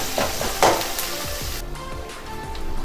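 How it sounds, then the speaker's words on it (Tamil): Curry leaves and coriander sautéing with softened tomato in a pan, a steady close sizzle with brief stirring scrapes early on, continuing alone without voices. "கருவேப்பிலை, கொத்தமல்லி நான் போட்டு நல்லா மசிய வதக்கலாம்"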